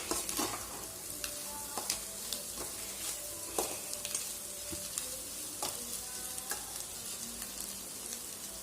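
An egg mixture for egg noodles sizzles and fries in a pan while being stirred, with steady crackling and repeated utensil scrapes and taps against the pan, close up and without talk.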